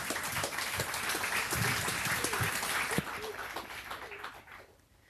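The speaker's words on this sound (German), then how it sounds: "Einen Applaus bitte." An audience claps steadily at a youth hackathon closing event, loud and continuous for about three seconds before thinning and fading, with a voice briefly heard over it.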